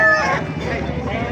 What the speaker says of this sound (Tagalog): Puro manok makikita nyo dyan.